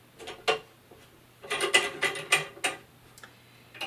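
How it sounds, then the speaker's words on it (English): A clamp on the frame of a one-colour, one-station screen printing press is tightened, giving a faint series of short metallic clicks and ratcheting scrapes in a quiet room. "I am going to take my 10 by 14 speedball frame and attach it to the clamp and tighten it down"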